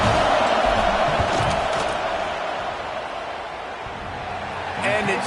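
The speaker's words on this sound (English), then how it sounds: "This crowd trying to do its part to get inside the kicker's head." A stadium crowd in a college football video game roars during a field goal attempt, a broad wash of noise that dips and then swells again, with a commentator's voice over it.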